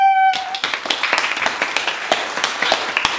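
Applause of couples follows a brief sustained electronic tone: dense clapping from a small group, close and lively, carrying on steadily to the end.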